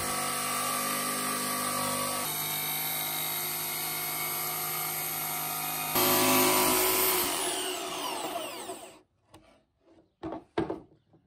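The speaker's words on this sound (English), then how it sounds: "Curves, we do with the jigsaw, and we're going to be as careful as possible." A jigsaw drones steadily as it cuts curves in wood for a children's car bed, a continuous buzzing whine that swells louder midway, then stops, leaving a few knocks and clatters.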